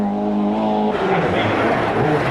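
A little 1600cc Vauxhall Nova rally car drives hard on the 1991 Manx International Rally, its engine note holding steady and then dropping into a rough, broad roar as it passes close and loud.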